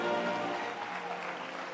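Audience applause as a guest walks off stage at a live entertainment event, a steady, fairly faint wash of clapping that continues evenly throughout with no talk over it.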